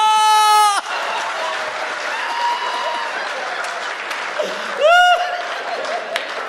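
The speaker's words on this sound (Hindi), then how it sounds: "ताली बजा सकते हैं।" Audience applause at a Hindi comedy poetry show, a sustained crowd clapping between louder bursts of voice at the start and near the end, filling the room at moderate level.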